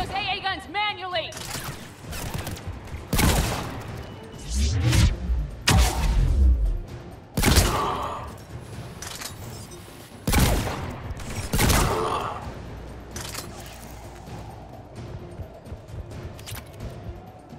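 Heavy anti-aircraft guns in Mass Effect 3 fire in loud, booming bursts about every couple of seconds, over a dense game soundscape with rumbling effects and a voice speaking.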